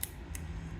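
Small collapsible folding scissors snipping plant leaves at a desk, giving two quick crisp metallic snips close up over a quiet background hum.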